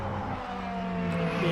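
Ferrari and BMW hypercars racing in a sim racing championship game, a steady engine drone with rising whining revs as the cars accelerate, continuous and moderately loud, with no voices heard.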